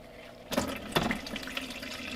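Engine oil from a Porsche 997 Carrera 4S starting to drain after the plug is loosened, a soft liquid splash that begins half a second in and continues as a faint trickling, bubbling pour.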